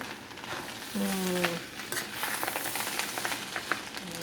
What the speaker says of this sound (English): we're using a wok, so we're stir frying it